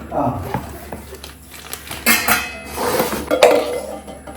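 A heavy Indus Valley brand cooking pot being handled in a new kitchen, with irregular clanks, knocks and light clinks of metal cookware while people talk nearby.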